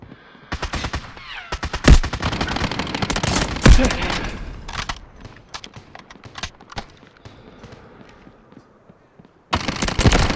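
Gunfire from the mobile shooter game Delta Force Mobile in operation mode, rapid bursts and single loud shots crackling through most of the stretch, with a pause near the end before another burst.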